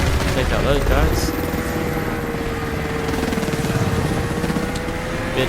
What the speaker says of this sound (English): just watch out for that enemy helicopter, because it can kill you